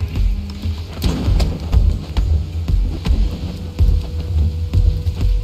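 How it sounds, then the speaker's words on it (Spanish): Rain patters steadily over a low rumbling thunder bed in the martial-arts game Sifu, with scattered sharp impacts, loud and continuous, and no speech. "Bajo la lluvia siempre es más dramático."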